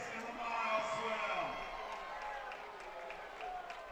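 Family members at a railing cheer on a swimmer at the 2020 Patriot League Championships, distant crowd noise and shouting that swells and ebbs in a reverberant natatorium under an announcer's voice.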